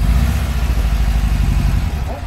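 Loud engines rumble and idle close by, a deep steady throb with slight revving, while a voice speaks faintly underneath.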